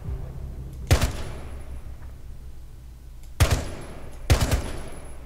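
Three sharp bursts of gunfire in the video game Rainbow Six Siege, each a loud close crack with a short decaying tail, separated by quiet stretches.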